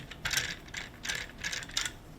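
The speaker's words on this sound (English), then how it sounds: "first I'm putting the screws in about halfway" Screws being driven partway into a DIY relic Stratocaster guitar kit during assembly, heard as short ratcheting, clicking bursts in a quick irregular rhythm, close and moderately quiet, with no talking.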